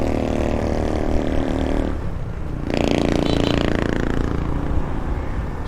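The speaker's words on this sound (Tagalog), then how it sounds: "Sobrang ingay ng motor niya." A Honda Wave RSX motorcycle engine runs with a loud, steady roar up close, dipping briefly before it surges again, with no talk over it.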